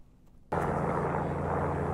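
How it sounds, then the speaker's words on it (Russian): A helicopter climbs over forested countryside outside Moscow, its engine and rotor roar cutting in abruptly from near quiet and holding as a loud, steady, close drone. "Действительно вертолет прямо над головой."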